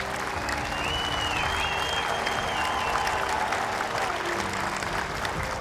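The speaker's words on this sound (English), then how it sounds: "can we give all of them a big round of applause?" Crowd at an Oceanside 9/11 remembrance ceremony applauding veterans, sustained, dense clapping from a large outdoor gathering with a few cheers and a faint tonal sweep passing over it.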